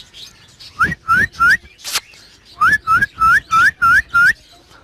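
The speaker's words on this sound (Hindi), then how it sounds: "इनको थोड़ी सी सीटी बजाऊंगा तो दोनों पेयर इंशाल्लाह बाहर आ जाएंगे" A person whistles to call Alexandrine parakeets, a series of short rising notes, three then six in a quick even rhythm, close and loud.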